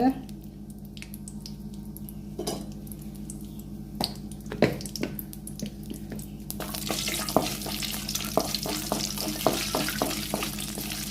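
Cashew nuts frying in ghee for jaggery pongal, a steady soft sizzle with scattered clicks and pops that grows brighter and busier partway through, close by and moderately loud.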